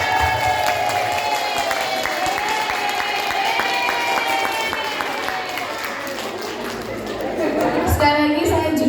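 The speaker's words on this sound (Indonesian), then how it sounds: "Mari kita tepuk tangan yang meriah sekali lagi untuk seluruh narasumber kita" Audience applause at an early-childhood education (PAUD) talk show session, dense clapping and crowd noise lasting throughout, with music playing underneath and a voice breaking in near the end.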